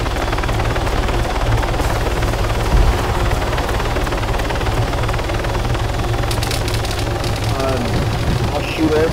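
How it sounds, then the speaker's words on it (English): A Leopard helicopter in an Arma 3 King of the Hill match gives a continuous rotor and engine drone with rhythmic chopping, while a player talks loosely over it. "Whoever's in that Leopard helicopter."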